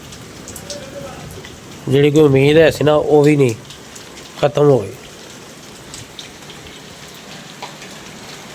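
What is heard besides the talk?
rain falling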